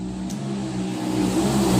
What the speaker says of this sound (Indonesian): Nah, suara motor.